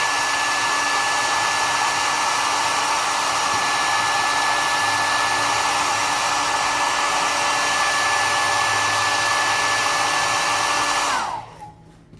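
A hair dryer blows steadily on freshly painted plaster during restoration, a loud continuous whooshing roar with a constant whine that runs for about eleven seconds, then cuts off and winds down.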